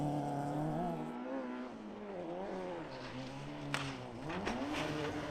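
Honda Civic rally car on a forest stage of the Moonraker Forest Rally in Ireland, its engine note rising and falling through gear changes and revs, heard from a moderate distance with a couple of sharp knocks.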